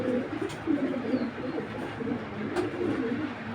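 A pair of big Afshan grizzle pigeons coos in low, continuous murmuring phrases close by, with faint background rustle and no talk.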